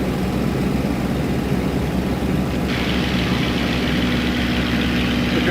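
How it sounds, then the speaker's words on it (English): Aircraft engine running steadily in flight, a continuous loud drone with a low hum; partway through the tone shifts as power is eased back, with no talk over it. "Just going to reduce the engine power a little bit."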